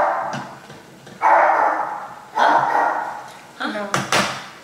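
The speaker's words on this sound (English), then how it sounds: "he's trying to distract me by barking" A dog barks several times in loud, separate bursts close by in a home, with short pauses between barks and a quick double bark at the end.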